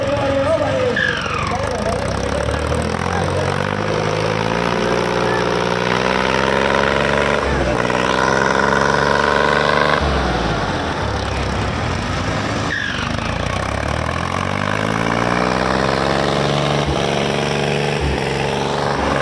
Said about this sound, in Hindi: टर्बो की आवाज़ सुनो भाइयों, टर्बो की आवाज़